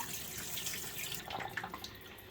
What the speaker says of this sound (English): grab the end of it like this so that the water will pour out without the ribs actually coming out of the bag